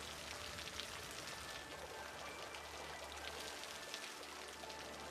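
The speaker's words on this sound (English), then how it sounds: "you would think the torrential rains would help" Steady heavy rainfall in the Cities: Skylines city-building game, a dense continuous hiss of drops pattering on surfaces with a low rumbling bed beneath, constant and enveloping throughout.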